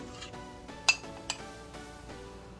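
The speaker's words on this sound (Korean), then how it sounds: "자 이제 멸치도 다 건져 줄게요" A metal utensil clinks against a soup pot while anchovies are scooped out of Korean cabbage doenjang broth, with two sharp knocks among softer scraping and rattling close by.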